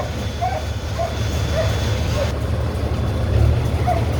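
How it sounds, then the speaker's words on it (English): A grain auger runs on a corn farm with a steady, low mechanical drone, while short dog yelps repeat over it now and then. "as soon as I turn this auger on"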